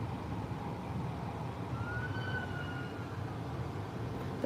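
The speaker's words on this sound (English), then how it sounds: "they got more police cars coming, y'all" Police car siren on a city street, a faint wailing tone rising briefly in the distance over steady traffic rumble, with no talking.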